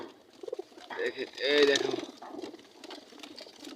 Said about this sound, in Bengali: সেই কবুতর এই দেখেন মারামারি করছে।